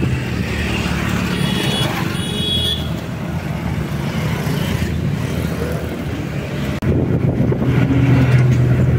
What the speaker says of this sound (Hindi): हमारी बस जगह पे टर्न हो रही है, बहुत खतरनाक रोड है